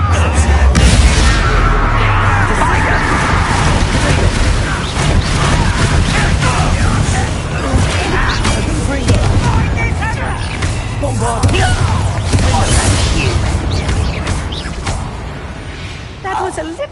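A Confringo explosive spell in Hogwarts Legacy sets off loud, continuous crashing blasts and rumbling chaos that last throughout, with shouting voices mixed into the din.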